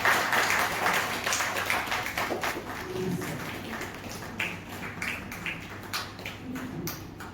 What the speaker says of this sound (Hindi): जोरदार ताली से हम स्वागत करेंगे